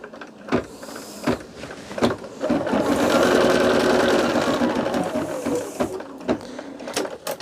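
An embroidery sewing machine stitching a line, its motor whirring steadily with a rapid needle rhythm in the middle, framed by sharp clicks and thumps before and after.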